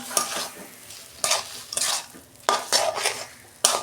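Taro paste stirred in a pan with fried garlic gives rhythmic scraping bursts of a spatula over a steady sizzle, close and fairly loud, with four or five strong strokes.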